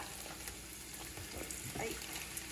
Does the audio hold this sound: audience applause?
no